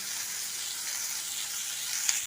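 Onions fry in hot oil in a pan for a jackfruit curry, giving a steady, bright, continuous sizzle close up with no talking.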